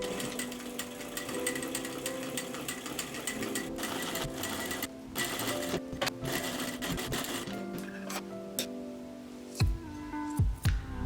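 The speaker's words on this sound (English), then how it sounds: "Then sew around the outer perimeter of the brim." A sewing machine runs continuously, stitching around the outer edge of a paneled bucket hat brim, with a fast steady mechanical hum up close that pauses briefly and then restarts in short bursts.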